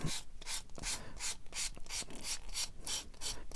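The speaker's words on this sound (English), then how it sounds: "I then went down with the next level down of sanding block" Rhythmic back-and-forth rasping of a sanding block scrubbing a plastic model kit, steady strokes about three per second, close and alone.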